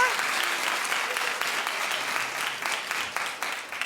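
Dense applause from a studio audience at a daytime talk show, many hands clapping together in a continuous roar that fades slightly toward the end, with a voice faintly underneath.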